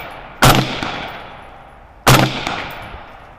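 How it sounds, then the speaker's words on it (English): Two loud rifle shots ring out about a second and a half apart at a 100-yard range during thermal scope testing. Each has a sharp crack followed by a decaying echo, and no one speaks. "Let's take a few shots at 100 first."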